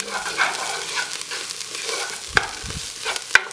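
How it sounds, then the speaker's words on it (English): Garlic sizzles in a pan with onions as a utensil stirs it, a soft steady frying hiss with a few sharp scrapes and clicks of the spoon against the pan, no voices. "Give that a quick stir."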